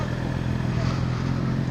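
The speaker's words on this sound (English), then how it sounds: "Nice Kawasaki Ninja there." Kawasaki Ninja motorcycle fitted with a custom exhaust, a steady, loud engine drone with low rumble holding throughout as it passes close by.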